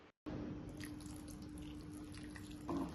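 Water poured into a pan while cooking a Tamil banana flower stir-fry (vazhaipoo poriyal), a steady close splashing trickle running for about three seconds after a brief gap.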